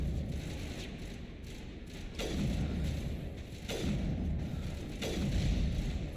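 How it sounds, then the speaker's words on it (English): Rocket blasts in the Mass Effect video game: three deep, booming thuds spaced about a second and a half apart, each with a rumbling decay over steady low background noise. "That was a rocket."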